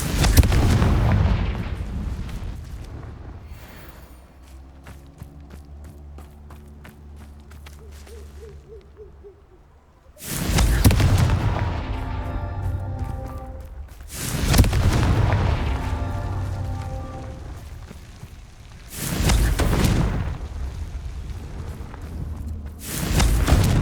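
Confringo fire spells blast in Hogwarts Legacy, landing as several loud, booming explosions spaced a few seconds apart, each with a long rumbling tail, alongside quieter tonal game sounds.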